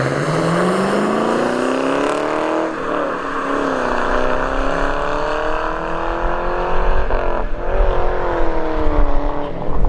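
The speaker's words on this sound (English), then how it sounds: "All right, got the Camaro SS coming back." A Chevrolet Camaro SS at a drag strip drones with a loud, sustained engine note that rises and falls steadily, with louder rumbling toward the end.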